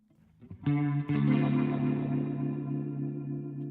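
Clean electric guitar through a Boss RT-2 Rotary Ensemble pedal on mode 3 with no gain, a couple of quick picked notes then a strummed chord that rings and slowly decays with a wobbling swirl.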